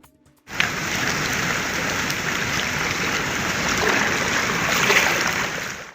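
Heavy monsoon rain pours down in northern Kerala, a loud, dense, unbroken downpour that starts abruptly and holds steady throughout.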